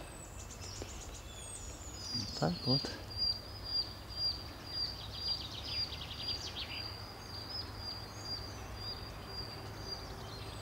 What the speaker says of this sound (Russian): Только слышно, как птички поют.